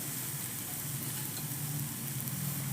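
Boiled potato and coriander filling for vada pav is being mixed in a hot pan, giving a soft continuous sizzle and scrape with no voices.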